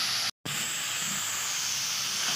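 Cauliflower frying in a pan for a spiced gobi sabzi gives a steady, close, even hiss, broken once by a brief dropout near the start.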